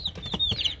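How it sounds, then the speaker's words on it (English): Chickens clucking close by in a pigeon loft area, short overlapping squawks and clucks with a bit of shuffling, busy and fairly loud. "These chickens are making so much noise."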